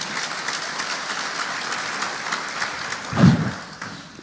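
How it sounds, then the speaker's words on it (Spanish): Soft, distant applause from a Baptist church congregation, a steady low wash of clapping with a brief louder swell near the end. "Démosle un fuerte aplauso al Señor"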